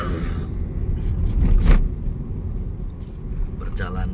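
A car overtakes on the road toward Alas Roban, its engine rumble swelling briefly as it draws alongside and then fading under a steady drone of road noise, while someone talks.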